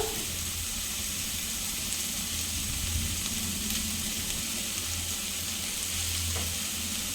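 Cabbage curry with spices fries in a pan, an even, dense hiss of sizzling that holds steady throughout, close and moderately loud, with only faint stirring and no talking.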